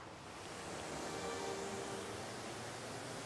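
A waterfall in the Rocky Mountains roars as a continuous broadband rush of falling water, steady and fairly distant, with no voices over it.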